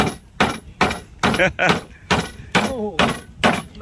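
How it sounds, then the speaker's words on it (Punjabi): Nails are hammered by hand in a regular run of about eight sharp, evenly spaced knocks, close and loud, while someone talks over them. "ਹੁਣ ਮੇਖਾ ਕਿਵੇਂ ਠੋਕਦਾ ਚੱਲ ਠੋਕ ਮੇਖ ਜਵਾਨਾ"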